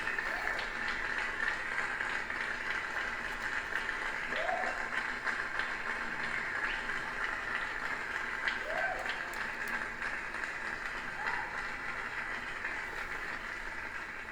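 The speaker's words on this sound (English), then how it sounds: "Round of applause." Steady applause from a crowd fills the whole stretch, a dense wash of many hands clapping at an even level without pause.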